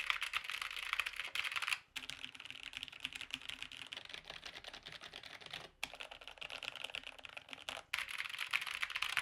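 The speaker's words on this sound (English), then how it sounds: "So this is the Keymove DK60 Now this one is not pre-lubed switches." Rapid typing on a Keymove DK60 keyboard with brown, non-pre-lubed switches produces dense, clacky keystrokes in bursts, broken by brief pauses, close and fairly quiet with no voices.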